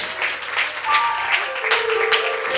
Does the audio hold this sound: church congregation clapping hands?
yes